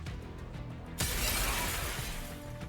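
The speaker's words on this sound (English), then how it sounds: "The familiar and terrifying sounds of glass breaking fill the air." Glass shatters in a single loud, sudden burst within the Nikke video game, following a quieter stretch of low ambient rumble, then the scattering fragments ring on and trail off gradually.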